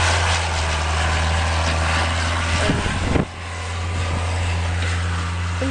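Strong wind roars during the first snow of 2012, a loud, constant low rumble with blustery surges and one sharp gust burst partway through.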